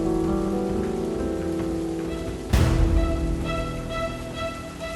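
Steady rain pours down in a dramatic night scene, a dense even hiss throughout, broken midway by a sudden louder burst like a rumble or crash before settling back into the downpour.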